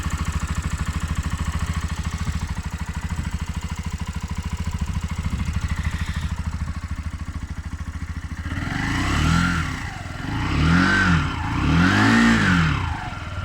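A Romet K125FI motorcycle with a fuel-injected engine idles evenly and close at first, then revs up in three rising and falling surges.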